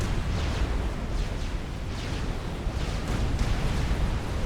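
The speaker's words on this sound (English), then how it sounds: "Could listen to those cannons all day long." Cannons fire from huge experimental units in the Supreme Commander strategy game, a dense, continuous barrage of overlapping booms and rumbling blasts at a steady loud level, with no voice over it.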